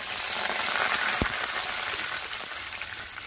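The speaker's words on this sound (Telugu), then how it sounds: "ఇవి కాస్తనైతే చిటపటన ఆడేదాకా మాత్రం మనం అయితే వేయించుకోవాలి" Dried red chillies and curry leaves fry in hot oil for a yogurt okra curry, producing a steady close sizzle with a faint crackle and one soft thud.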